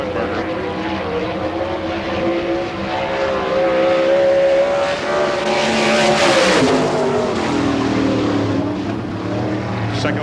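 A sprint car at an All Star Circuit of Champions Spring Nationals race in Hartford, Ohio roars past while finishing a lap, its loud engine swelling to a peak then dropping in pitch as it passes, with continuous engine drone throughout.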